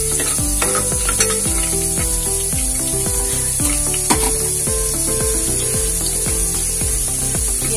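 Mustard seeds crackle and sizzle in hot oil while tempering for sambhar: a loud, steady frying hiss dotted with small repeated pops, with no talking.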